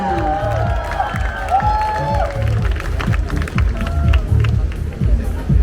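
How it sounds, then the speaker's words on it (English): A crowd at a Tour de France event in Singapore applauds and cheers for the Ineos Grenadiers team, with clapping and cheers rising under an announcer's amplified voice and a rhythmic rumble of activity beneath. "let's give them a big round of applause one more time"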